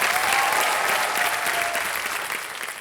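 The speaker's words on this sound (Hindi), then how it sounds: "ताली बज जाए इनके लिए।" Studio audience applauding a young contestant on the KBC India quiz show, a steady, dense wash of clapping throughout at close range with no talk over it.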